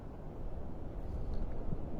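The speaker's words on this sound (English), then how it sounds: "I don't know if you can hear the waves in the background rolling over the sandbar." Early-morning waves rolling over the sandbar at the mouth of Clam Pass in North Naples, Florida, a faint, constant distant rush much like wind, with no distinct breaks.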